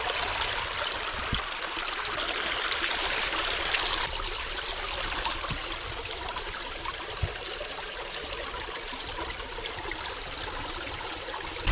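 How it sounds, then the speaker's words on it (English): Ice-cold spring water gushing from a hole in a mountainside into the Buffalo National River, a steady, close rushing and trickling flow that holds constant throughout with no voices. "there's just this spring that's coming straight out of the side of this mountain, just a hole in the mountain"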